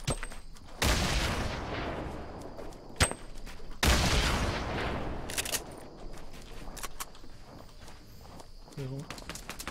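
Gunfire in the Fortnite video game, heard as a few sharp shots and bursts among running footsteps and game noise, with excited talking over it.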